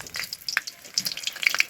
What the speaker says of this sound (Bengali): এবার আমাদের যেটা কাজ সেটা হচ্ছে আমরা লঙ্কাগুলোকে একটু ভেজে নেব